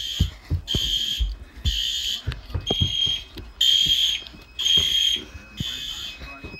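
A fire alarm system sounds in repeated loud electronic pulses about once a second, tested with a System Sensor RA100Z remote LED annunciator, with a person talking between and under the tones.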